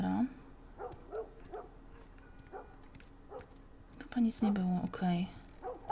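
A dog barks and whimpers in The Last of Us Remastered, giving short yips between whispered and spoken talk, with louder bursts near the end.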